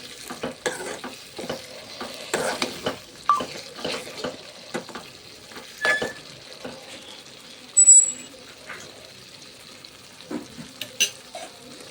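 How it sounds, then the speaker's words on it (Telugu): Tomatoes frying in oil for a tomato and dried red chilli chutney, stirred with repeated scraping and clattering strokes of a spoon over a soft sizzle. "ఆయిల్ బయటికి వచ్చేంత వరకు టమాటాలను ఫ్రై చేసుకొని"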